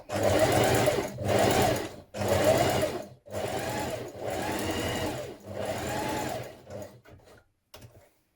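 A sewing machine runs in six sustained bursts with short pauses between, stitching two rows of gathering stitches for a gathered top, McCall's 7978; the stitching is close and steady, tapering into a few brief fragments at the end.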